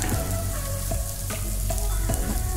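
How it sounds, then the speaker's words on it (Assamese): Potatoes fry in a pan with turmeric, cumin and coriander in a steady, loud, close sizzle with occasional crackles and a few stirring scrapes, and no voices. "আলুখিনি ৰঙচুৱাকৈ ভাজি তাত হালধি, জিৰা, ধনিয়া"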